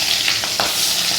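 Whole fish roe frying in hot oil with green chillies, a steady close sizzle with a couple of brief pops and spatters, no talking.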